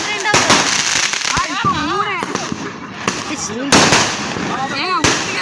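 Diwali firecrackers burst loudly in a rapid series of sharp cracks and bangs, some with whistling rising tones, while people talk over them outdoors.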